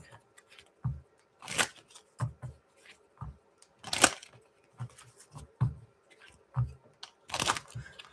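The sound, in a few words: shuffling a tarot card deck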